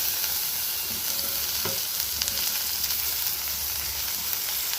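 Cabbage sautés in a frying pan for a South Indian poriyal, giving a constant close hiss of frying with faint scraping of a stirring spoon.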